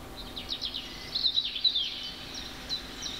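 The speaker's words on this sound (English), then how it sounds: "So, meron siyang bird sound." Light bird chirps and short tweets from a Samsung Sero TV's forest ambience mode flutter over a steady hiss, coming in small bursts with brief pauses.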